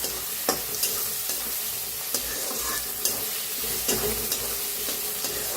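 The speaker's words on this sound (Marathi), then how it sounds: "टमाटो बी छान असं भाजून घेऊया" Continuous sizzling from a pan up close, broken by regular scraping taps of a spatula as tomato pieces are stirred and fried.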